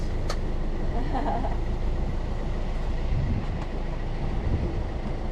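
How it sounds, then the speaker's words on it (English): A cruising sailboat's engine runs at sea in the North Pacific, giving a steady, continuous low drone with a broad hiss on top that holds evenly throughout. "Engine runs."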